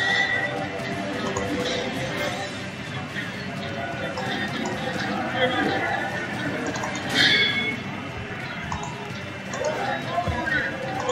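Horses neigh and gallop amid a battle in the video game Medieval 2 Total War, with hoofbeats and whinnies mixed into a dense din of fighting. Someone talks over the noise.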